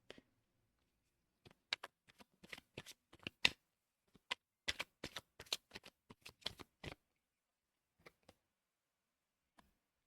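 Playing cards are riffled and shuffled in quick clusters of crisp, papery flicks, close and fairly quiet, with a few isolated snaps trailing off into near silence.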